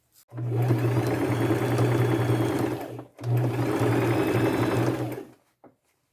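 A sewing machine runs close and loud, stitching a fabric bib strap in two long steady bursts with a brief pause between them, then stops.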